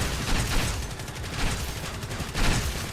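Rapid gunfire from a shoulder-mounted turret in a video game, a dense continuous barrage of shots that carries through the whole stretch and swells louder in bursts near the end.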